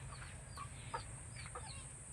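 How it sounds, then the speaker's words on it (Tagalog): Soft clucks from a Filipino native chicken come in a few short bursts over a low steady hum, quiet and somewhat distant. "Native na manok yan."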